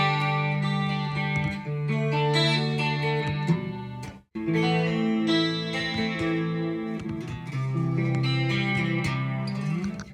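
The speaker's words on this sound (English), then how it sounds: "Here's channel 1. It's your clean channel." An electric guitar on an amplifier's clean channel plays sustained chords with a clean, bright tone, ringing steadily with one brief pause midway.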